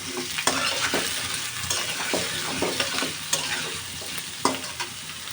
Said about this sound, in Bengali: আলু পেঁয়াজ একসাথে ভেজে নেব, বেশি লাল করে ভাজবো না